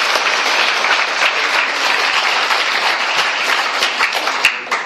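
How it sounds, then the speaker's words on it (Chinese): An indoor audience claps together in a dense, steady round of applause, loud and close, with no voices over it. "所以我们这个掌声给我们的爸爸妈妈"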